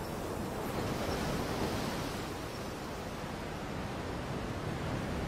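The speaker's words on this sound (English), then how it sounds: "The sound of the wind gives way to the crashing waves of the ocean below." Ocean waves crash against the coast below, heard as a faint, steady, distant roar of surf without distinct individual breakers.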